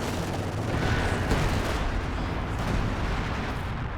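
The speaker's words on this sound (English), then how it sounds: "Double howitzers going to work now." Double howitzers firing in a Company of Heroes 2 battle: dense, loud rolling artillery booms and blasts fill the whole stretch, layered continuously with no talk over them.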